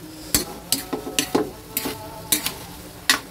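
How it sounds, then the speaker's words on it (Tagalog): A utensil scrapes and taps against a pan while soy sauce and sugar are mixed together, about eight close, sharp strokes with a faint sizzle between them. "Then mix all together."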